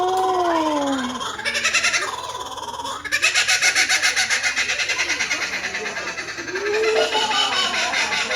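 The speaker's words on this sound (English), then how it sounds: "this is Sydney, the laughing kookaburra" A laughing kookaburra gives a loud, close call, rising whoops that break into a rapid, pulsing, cackling chatter of repeated notes lasting several seconds.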